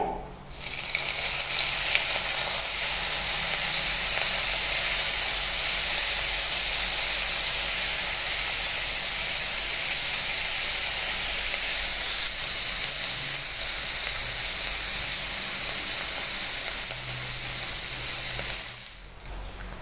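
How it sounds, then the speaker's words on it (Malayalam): Dried fish frying in hot coconut oil for a Kerala chutney, heard as a loud, continuous close sizzle and hiss that holds steady for most of the stretch before dropping away at the end. "ഇനി നമുക്ക് ഈ ഉണക്കുമീനൊന്ന് വറുത്തെടുക്കണം"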